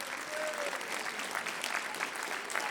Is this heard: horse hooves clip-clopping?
no